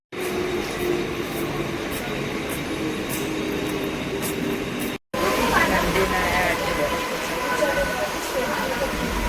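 A train rumbles at Kanjurmarg railway station in an early-morning platform scene. A steady, close mechanical drone is broken by a brief gap, and voices mix in.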